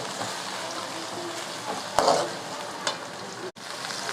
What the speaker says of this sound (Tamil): புதினாவும் சேர்த்து தக்காளியோடு சேர்த்து நல்லா வதக்கி விடுங்க